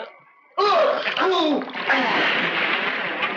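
A sudden loud splash as a person is thrown into water, followed by agitated shouting voices and sloshing that continue close up.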